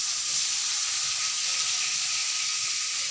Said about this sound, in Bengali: বেশ কিছুক্ষণ আমি গরম মশলার সাথে টমেটোটাকে ফ্রাই করে নিলাম